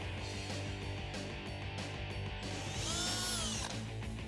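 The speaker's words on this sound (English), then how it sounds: "we have our 1/16 inch drill bit" A power drill with a 1/16 inch bit bores holes through a plastic Jeep Wrangler JL bumper to mount mud guards: close, steady whirring with bursts of high-pitched motor whine rising and falling, no speech.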